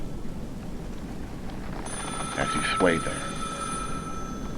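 A telephone bell starts ringing partway through a tabletop role-playing game session, a bright sustained electronic ring over steady background hiss while someone narrates over it.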